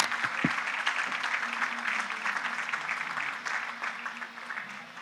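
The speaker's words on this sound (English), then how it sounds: "Let's one more round of applause for Rob and Discernis." Sustained applause from an audience at a startup demo day, dense steady clapping filling the room for several seconds with no talk over it, fading slightly toward the end.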